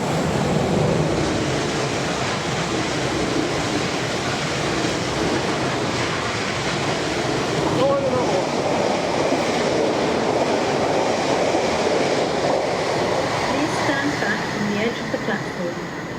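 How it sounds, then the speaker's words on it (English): A train approaching on the London & Southampton Railway, a steady broadband rumble and rush holding throughout, fairly loud and continuous, with people talking over it. "Stop, there's a train coming."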